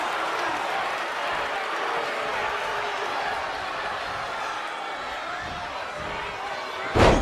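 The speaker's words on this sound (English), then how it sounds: "Fisherman suplex." A fisherman suplex in a WWE wrestling video game lands as a single heavy slam near the end, cutting through a steady roar of arena crowd noise that fills the clip.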